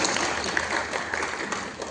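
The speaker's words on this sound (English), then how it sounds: "let us give them a round of applause" Audience applause at a film festival closing ceremony, a continuous wash of clapping from a crowd that stays fairly even for the short stretch, heard at some distance in a large hall.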